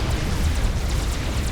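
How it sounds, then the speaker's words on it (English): A nuke detonates in the strategy game Supreme Commander Forged Alliance, a loud sustained low rumbling boom that rolls on without break. "we see on the inset there the explosion as the nuke detonates Vela's air grid"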